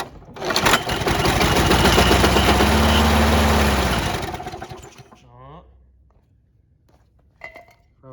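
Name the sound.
old push mower engine running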